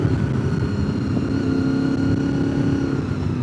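A Porsche Club car with a Mazda Miata chasing close behind drives past at Deals Gap, engines droning loud and steady throughout with a rising whine, no talk.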